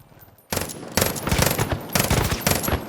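Gunfire in Far Cry New Dawn: after a short quiet lead-in, loud rapid automatic bursts rattle on continuously with brief gaps.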